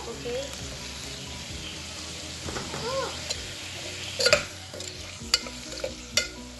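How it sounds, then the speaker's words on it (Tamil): Tomatoes fry with salt, turmeric, pepper, coriander and garam masala powders in a pan for chicken biryani: a soft background sizzle broken by sharp clinks of a spoon stirring against the pan. "இனி டொமேட்டோ ஆட் பண்ணுவோம்"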